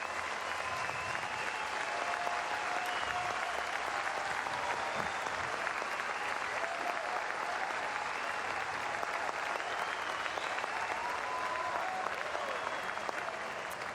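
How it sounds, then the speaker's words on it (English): A college baseball crowd at a Texas versus Stanford game rises in a standing ovation, steady loud applause and cheering filling the ballpark without pause. "This crowd will give Ty Colberth a standing ovation"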